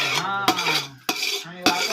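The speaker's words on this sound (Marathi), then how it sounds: "आता चिकनला फोडणी मारायची आहे" Metal spoon scraping and clanking around a pot while stirring chicken being tempered for dum biryani over a wood-fired stove, three sharp knocks amid continuous close scraping.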